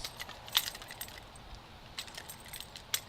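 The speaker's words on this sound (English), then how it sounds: "Stop it with the keys." Keys jangle in bursts near a microphone, bright metallic clinks and rattles scattered across a few seconds, with a couple of sharper shakes standing out over a quiet room.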